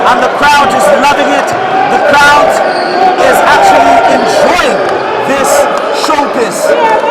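Noisy crowd at a basketball game between Matero Magic and Green Buffaloes, a loud steady roar with scattered cheers and ball bounces, under a commentator talking throughout.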